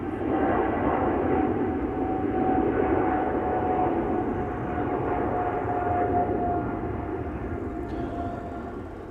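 An Emirates airliner on flight 146 to Dubai departs, giving a steady, moderately loud engine rumble with a thin whine running through it that slowly fades toward the end, with no voices.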